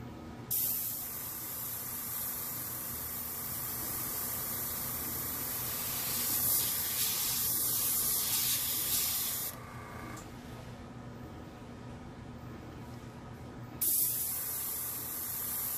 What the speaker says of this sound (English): I'm taking my airbrush, holding it very close and blowing the rest of the alcohol off the paper